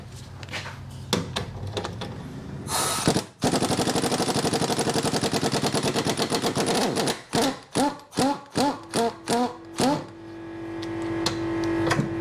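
An impact gun buzzes in a long rattling burst, then in a series of short hammering bursts, removing a 19mm bolt from the rear shock absorber mount of a 2009 Fiat 500C 1.2 petrol, with clanks and handling noises around it.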